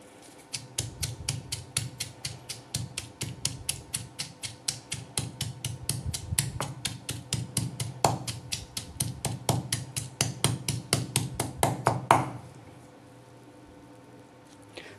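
Onion pounded by hand for green chutney, a steady rapid run of dull thuds, dozens of close blows in even rhythm that stop abruptly near the end.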